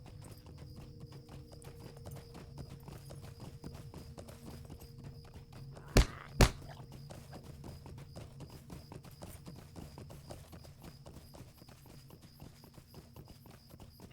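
Horse hoofbeats in the online game LOTRO, a steady rhythmic clip-clop at a walking pace that runs throughout, with two sharp louder clicks near the middle.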